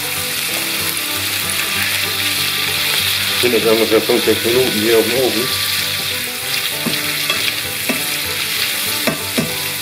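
Butter sizzling and crackling in a hot frying pan, a steady frying hiss with brief louder bursts, while a person talks over it.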